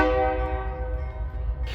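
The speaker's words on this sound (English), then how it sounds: "waited some more, and then blew its horn," A mixed train's horn sounds a single sustained, loud blast on a level crossing line before the train starts moving, then trails off with low rumble beneath.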